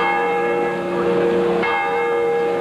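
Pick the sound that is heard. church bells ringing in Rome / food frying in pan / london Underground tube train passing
church bells ringing in Rome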